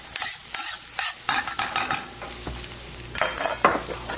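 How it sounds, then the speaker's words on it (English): White onion sautéing with pork in a pan for wontons, steady sizzling broken by repeated stirring scrapes, close and moderately loud, no talking. "We'll start off with a white onion just to saute in."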